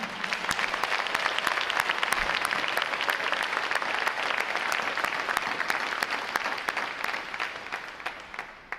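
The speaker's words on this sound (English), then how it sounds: "Round of applause for Recruit Training Command." Sustained applause from a large audience at a U.S. Navy Recruit Training Command boot camp graduation ceremony, steady dense clapping that holds for the full stretch before thinning slightly at the end.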